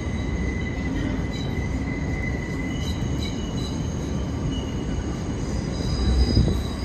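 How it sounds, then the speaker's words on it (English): NYC subway 2 train arriving at a station, loud continuous rumble of wheels on rails with high squealing tones, growing slightly louder toward the end. "Approaching the station, please stand away from the platform edge."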